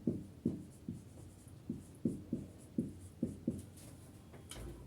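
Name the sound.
writing out a definition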